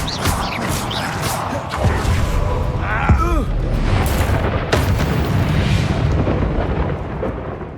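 A Confringo fire-blast spell from Hogwarts Legacy erupts in a loud, booming crash amid ongoing battle noise, with a rising whooshing burst near the middle and a voice talking over the dense rumble.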